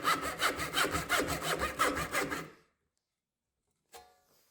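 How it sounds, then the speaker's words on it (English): A hand saw cuts wood for a lap joint in quick rhythmic back-and-forth strokes, close and crisp, then stops; a faint clatter follows after a pause. "For the lap joint, I cut down the side before adding several release cuts"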